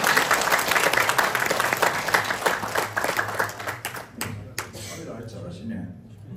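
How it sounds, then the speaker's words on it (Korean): A large audience at a New Year special lecture in Jeju applauds warmly to welcome a speaker, with loud, sustained clapping that thins out and fades over the last couple of seconds. "김관용 수석부회장님을 다시 한번 뜨거운 박수로 환영해 주시기 바랍니다"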